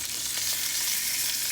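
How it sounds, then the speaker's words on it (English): Lamb chops sizzling and frying in a hot pan while being basted with butter, a steady close hiss and crackle with no voices. "I have also done a little bit of basting with my lamb chops and this butter that I've added in there."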